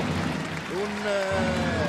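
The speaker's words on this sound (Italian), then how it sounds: "gli applausi del pubblico" A home crowd applauds in an indoor arena during a 2004/2005 women's volleyball match between Minetti Infoplus Vicenza and Monte Schiavo Jesi. The clapping is a steady wash under a commentator speaking over it.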